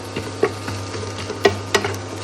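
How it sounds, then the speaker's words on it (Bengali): Onion being stirred in a pan with eggs to follow, a handful of soft scraping strokes over a low steady hiss, close and fairly quiet. "এই যে শুধু এখন পেঁয়াজটা নাড়াচাড়া করছে পেঁয়াজ দিয়ে"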